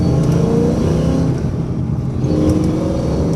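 A Ford Foxbody Mustang engine rumbles loudly and close, its deep, steady idle rising and falling slightly like a light rev, with no voices.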